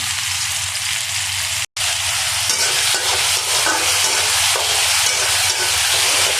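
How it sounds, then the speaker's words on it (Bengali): Potatoes and camel meat frying in oil, a loud dense sizzle filling the pan throughout, with a brief dropout early on and faint rhythmic stirring underneath, close and without talk. "আলুটা এই কারণে ভেজে নেব"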